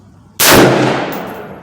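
A single loud, close gunshot from an S&W M&P15 rifle at a 100-yard range cracks sharply and then decays into a lingering echo.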